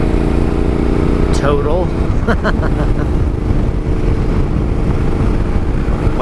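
A Yamaha Tenere motorcycle on a ride gives a constant loud engine drone mixed with heavy wind rush, steady throughout, while a rider speaks briefly over it.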